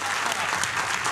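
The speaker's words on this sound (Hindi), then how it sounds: "तो ज्यादा तालियां बजाइए इनके लिए।" Dense, loud applause from a large studio audience at a televised debate show fills the whole moment, close and continuous without a break.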